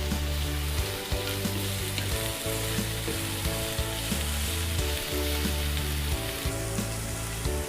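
Capsicum and tomato hit hot oil for a masala pasta, giving a loud, steady sizzle with intermittent stirring scrapes throughout, close and without talk.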